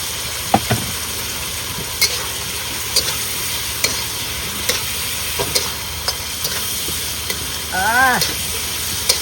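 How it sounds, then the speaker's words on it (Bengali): Spice paste fries in a pan with shrimp and potatoes, a constant sizzling hiss with faint scattered clicks of stirring, and a brief tonal sound near the end. "মশলাটা ভালো করে কষিয়ে নিয়েছি এবার প্রথমে দেবো চিংড়ি মাছ আর আলু"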